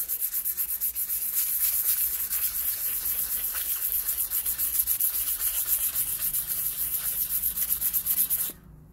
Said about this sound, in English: I got some 800 grit sandpaper. I'm going to do a quick sand on it.